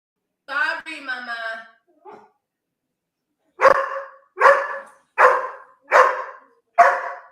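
A dog barks five times in a slow, even series, loud and close, following a few moments of someone talking.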